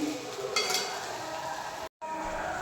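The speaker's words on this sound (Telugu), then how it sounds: "రైస్ కూడా కొంచెం ఫ్రై అయితేనే బాగుంటుంది" Rice frying in a pan over high heat, a dense steady sizzle with brief metallic stirring scrapes and one momentary dropout near the end.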